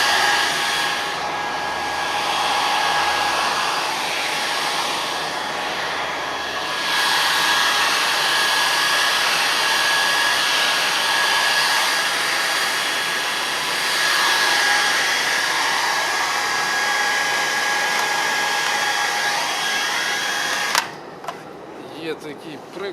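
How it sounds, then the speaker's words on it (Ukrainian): A household hair dryer blows with a steady, loud whooshing whine for about twenty seconds, then shuts off abruptly near the end. "прекрасний побутовий фен, от, яким ми інколи проганяємо"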